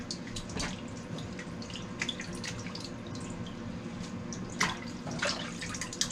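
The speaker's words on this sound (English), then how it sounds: "bring it back to the boil, run it under cold water." Cold tap water runs into a kitchen sink over blanched tomatoes, a steady splashing flow with scattered drips and clinks, close and unbroken, with no voices.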